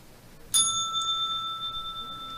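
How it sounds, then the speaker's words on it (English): A single bright bell ding like a bicycle bell, struck once sharply and then ringing out with a clear sustained tone that slowly decays over a quiet background. "Clear as a bell."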